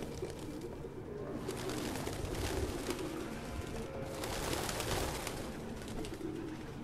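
Pigeons coo steadily in a game scene from Detroit: Become Human, a dense, continuous flock murmur with overlapping soft calls throughout, close and fairly loud.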